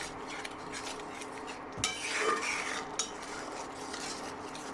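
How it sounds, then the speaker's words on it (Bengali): Catla fish curry masala with chili powder being stirred and sautéed in a pan, a continuous scraping and clinking of a spoon against metal with one louder clatter midway, over a faint background sizzle. "দিয়ে এটাকে আমি খুব সুন্দর করে কষাতে হবে।"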